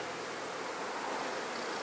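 Honey bees in a hive of a queenless split crowd around a queen cage, making a close, steady, dense buzzing hum with no voices.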